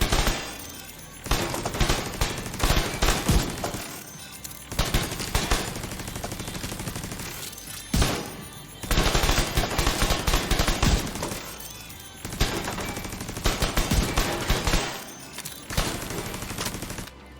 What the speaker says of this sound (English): Now if I shoot it with a turret,